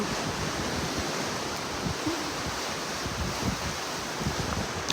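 Ocean waves washing onto a shore at a swimming spot, a steady broadband rush of surf with wind noise buffeting the microphone, continuous and fairly loud throughout.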